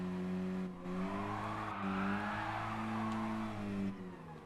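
Mazda Roadster drifting in Gran Turismo Sport: a steady engine drone with revs rising and falling through a slide, moderately loud and close, with a faint tire hiss underneath.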